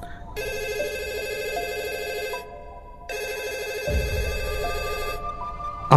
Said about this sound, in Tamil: அவங்க வீட்டோட லேண்ட்லைன் ஃபோன் வந்து ரிங் ஆகிற சத்தம் வந்து அவங்களுக்கு கேட்க ஆரம்பிக்குது